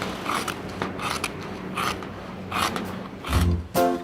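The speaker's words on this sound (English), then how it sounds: "The square is then cut out. Listen to the sound of the scissors." Scissors cut through a PVC sheet close up, giving a series of crisp, snappy crunches and creaks in an uneven rhythm, with a sharper, louder snip near the end.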